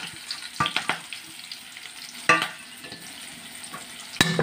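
Onion, dried red chillies and curry leaves frying in a pan, a soft continuous sizzle punctuated by several sharp clattering stirs and scrapes, close and clear with no talk.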